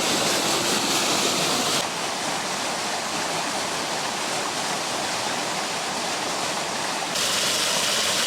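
River running high with rainwater in August near a trout farm, a loud continuous rushing roar of water close by, steady throughout with no voices.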